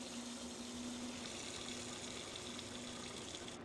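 Hot water runs steadily from a kitchen faucet while a water heater is drained of pressure, a faint continuous hiss and gush with no talk.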